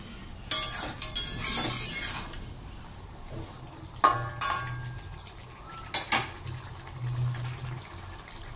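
Rohu fish pieces go into a simmering ridge gourd and potato curry, with a few clanks of utensils against the pot, wet splashes and stirring, then quieter bubbling between the louder bursts.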